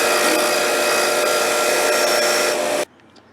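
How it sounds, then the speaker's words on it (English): A power drill bores out metal washers to a custom size during a 3/4 ton Suburban restoration, making a loud, continuous grinding whine that cuts off abruptly near the end. "Drilling out washers to a custom size."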